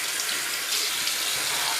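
Tap water runs steadily into a sink, a continuous bright splashing rush with no voices.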